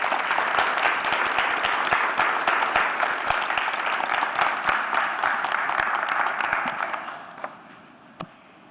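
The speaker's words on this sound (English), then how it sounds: "Can we do a round of applause for them?" A room audience gives a sustained round of applause, dense and steady clapping for about seven seconds before it fades out, with a few last claps at the end.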